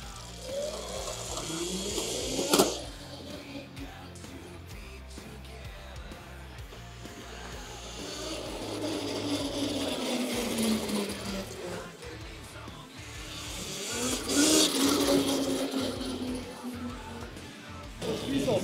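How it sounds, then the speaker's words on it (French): An electric Montesa motorbike accelerating on a road in riding mode 2, a rising motor whine that swells in two long sweeps over steady road and wind noise, heard close up. "On va faire une accel sur cette route là"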